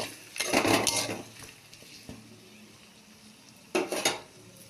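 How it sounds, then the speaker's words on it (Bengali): A spoon stirs potatoes with turmeric and salt in a metal pan, giving two bursts of scraping and clattering separated by a quieter stretch, fairly close and with no talking. "নাড়াচাড়া করে নেব।"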